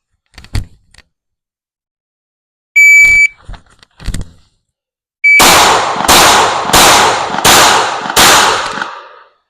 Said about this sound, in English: That was the first shot.